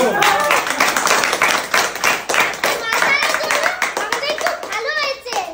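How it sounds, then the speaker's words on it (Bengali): A small group of adults and children claps together indoors, rapid and uneven hand claps lasting several seconds, mixed with excited children's voices and chatter. "তো আজকে আমাদের প্রিয় দর্শকদের জন্য একটা হাততালি জোরদার"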